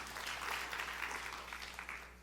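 A church congregation breaks into applause for the glory of God during a sermon, a soft, fairly distant patter of many hands clapping that tapers off toward the end, with a low hum beneath.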